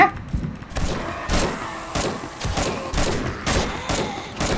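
Piercing gun fire in the zombie survival game 7 Days to Die: a run of loud, evenly spaced single shots, about seven in a row, close and punchy with no voices.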